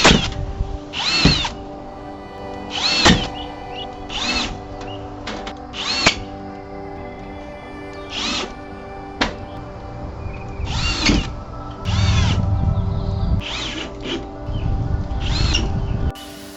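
Power drill driving pointed screws into wood while putting up soffits on a brick house, with repeated short bursts of whirring drill motor, some longer runs, and clunks and knocks between them.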